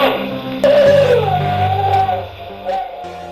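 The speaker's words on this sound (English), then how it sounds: "as you hear in the background, that you hear this whining dog noise" A dog whines in a long, high, wavering cry that rises and falls over a low rumbling background, loud and close, with no voices.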